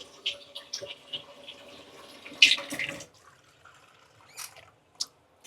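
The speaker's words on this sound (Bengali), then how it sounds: "এই যে আমি এখন জলটা দিয়ে দিব" Water pours from a tap into a pan while making mustard-paste puti fish curry, with a short splashing run, a bowl of ground mustard rinsed out, scattered drips and a few clinks trailing off near the end.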